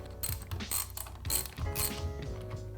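A T30 Torx driver turns the long axle bolt on a Pure Air electric scooter during a puncture repair, with quiet ratcheting clicks and mechanical grinding heard up close for a few seconds.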